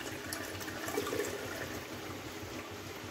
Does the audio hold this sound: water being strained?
yes